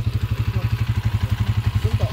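A Honda Alpha 125 motorcycle with a sidecar runs at idle, a close, rhythmic low putter of evenly spaced engine pulses, with faint voices in the background.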